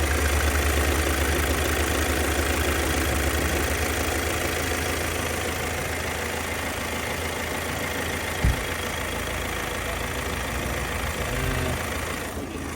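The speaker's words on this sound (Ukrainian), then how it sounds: "мотор е, працює стабільно, рівно. Питань до мотора немає, тихо дуже, мотор гарно працює." A car engine with 60,000 km on it idles steadily and evenly at close range, a low continuous hum with no voices.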